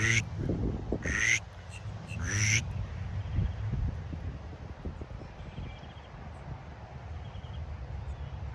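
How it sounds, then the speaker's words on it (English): A drake mallard quacks on a lakeshore reserve, three loud nasal quacks close by in the first few seconds, followed by wind noise and murmuring background. "Hopefully you could hear Mr. Duck talking"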